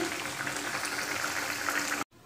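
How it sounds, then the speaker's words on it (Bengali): Dhoka curry, made with lentil cakes, bubbles in a pot as a steady, soft simmering hiss that stops abruptly near the end. "আর এই যে এখানে ধোকার তরকারিটা ফুটছে"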